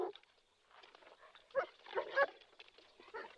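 Dogs barking during a search of a house at night, a few irregular barks of moderate loudness with no speech over them.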